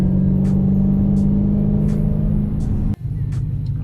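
A Dodge Challenger Hellcat engine idles with a deep, loud, steady rumble up close, a brief sharp click near the end, and no talk over it.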